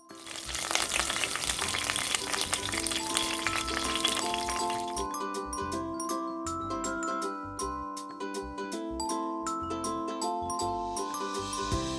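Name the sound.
mutton frying in a pressure cooker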